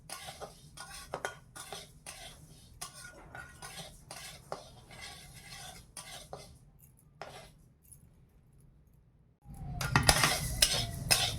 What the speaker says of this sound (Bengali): আগে মুগ কলাইটা ভেজে নেই।